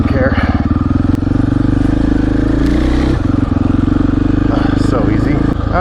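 A 2020 Husqvarna FE501s dirt bike engine roars loud and close while being ridden off-road, a continuous rough thumping drone with throttle swells and clattering from the terrain.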